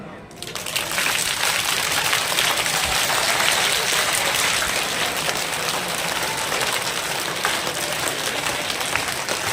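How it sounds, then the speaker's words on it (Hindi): Students at a school assembly in Mukerian clap their hands above their heads, a dense, continuous wash of many hands clapping loudly and evenly for nearly ten seconds. "अब ऊपर ताली बजाएंगे"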